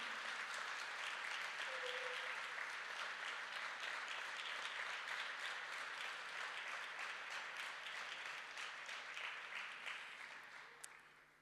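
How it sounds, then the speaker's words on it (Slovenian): Sustained audience applause in a hall at a company anniversary event, a broad steady roar of many hands clapping that holds for several seconds before tapering off at the end. "En velik aplavz, prosim."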